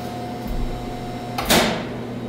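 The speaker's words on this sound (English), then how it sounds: "You can almost feel it in the floor when the brake engages." The brake of a 1910 Westinghouse gearless DC traction elevator machine engages with a single loud clunk over a steady electrical hum in the machine room.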